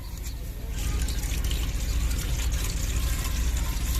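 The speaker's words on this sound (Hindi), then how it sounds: "तो अभी ना पानी जो है वो हमने डेचकी में डाल दिया है।" Water poured into a cooking pot outdoors while a sweet dish is being prepared, giving a steady close-up splashing and trickling that holds throughout with no speech over it.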